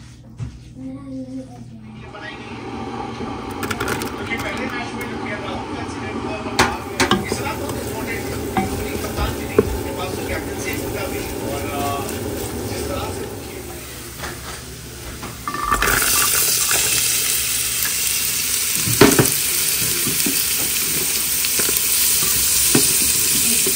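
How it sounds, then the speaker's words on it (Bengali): Onion and garlic sizzle in a pot, then carrot and celery are stirred in for chicken soup, a steady frying hiss with scraping stirs, growing louder partway through as the vegetables hit the hot oil. "পেঁয়াজ আর রসুন একটু ভাজার পরে আমি গাজর আর স্যালারি দিয়ে দিলাম"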